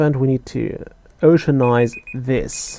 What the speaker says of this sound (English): There we go, that's my alarm.